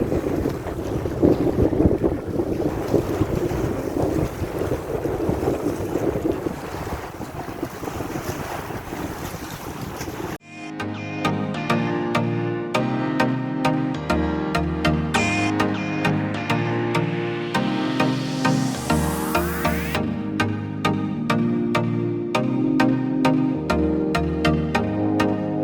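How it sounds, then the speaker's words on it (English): Strong wind on a beach at low tide buffets the microphone in a loud, continuous roar for about ten seconds, then gives way to music. "It is very windy."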